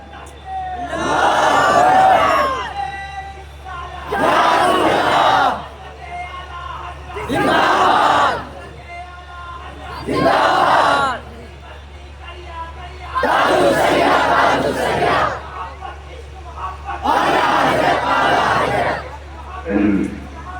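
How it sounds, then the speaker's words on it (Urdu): A crowd of children at a religious gathering shouts slogans together in loud, rhythmic call-and-response bursts, each roughly two seconds long, separated by brief pauses. "ان بچوں نے ابھی آپ نے نعرے لگائے"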